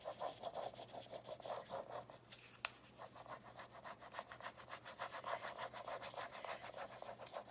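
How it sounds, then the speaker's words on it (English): A stick rubs a transfer down onto a galvanized metal or wooden crate, giving a steady rhythmic scraping and rasping that is close and moderately quiet, with one sharp tick partway through. "when you're rubbing along with this stick, if you're pulling along"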